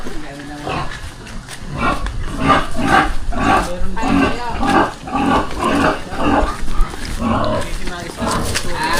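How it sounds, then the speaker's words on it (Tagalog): A pig being moved to a weighing scale on a farm lets out repeated loud squeals and grunts in irregular bursts, while people talk nearby. "Pupunta na namin yung baboy."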